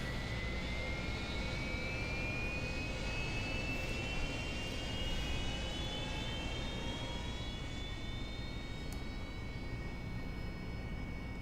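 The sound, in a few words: Harrier jump jet engine running in DCS flight simulator video game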